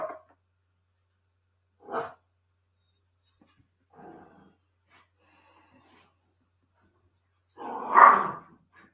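Dogs give a handful of separate barks, each short, with long quiet gaps between them; the last bark is the loudest and sounds closest.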